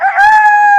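A person vocally imitates a rooster's cock-a-doodle-doo, a single loud, sustained crow with strong harmonics, delivered close and alone.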